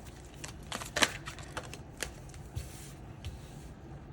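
Oracle cards being shuffled by hand, a soft, close riffling and flicking with a few sharper snaps, quiet and steady with no talking.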